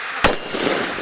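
A single sharp report from a pistol fitted with a see-through suppressor cracks loud and close, then decays into a lingering outdoor wash of noise.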